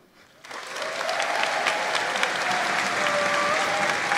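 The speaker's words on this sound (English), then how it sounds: "Keep your applause going for our next poet to the stage, Leo Drayton." Audience applause at a poetry slam final at the Roundhouse, starting abruptly after a brief quiet moment and swelling into steady, full clapping from a sizable crowd.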